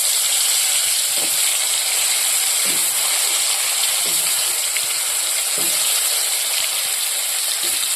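Pointed gourd (potol) frying in oil in a kadai, a loud, dense, unbroken sizzle with a few faint low knocks underneath, close up and without talk.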